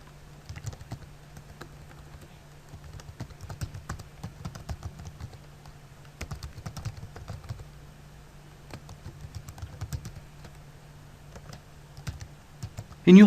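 Keyboard typing while entering a Hibernate model class name with its package in a configuration file: close, quiet clusters of rapid keystrokes separated by short pauses, over a faint hum.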